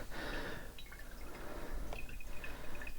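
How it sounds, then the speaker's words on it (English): Liquid drips slowly through a filter while homemade lactobacillus serum is strained off its sediment, a faint trickle with a few soft drops, heard alone and close. "So that can slowly drip through now"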